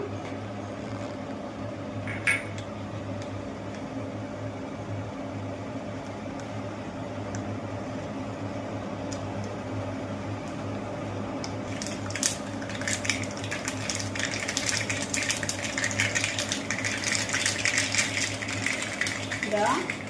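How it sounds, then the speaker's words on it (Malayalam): Mustard seeds spluttering in hot oil for a breakfast dish, a scatter of sharp crackles and pops that thicken in the second half over a steady low kitchen hum. "ഇത് എണ്ണ ഒരുവിധം ചൂടായിട്ടുണ്ട്. നമുക്ക് കടുക് ഇട്ട് കൊടുക്കാം."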